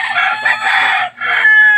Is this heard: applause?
no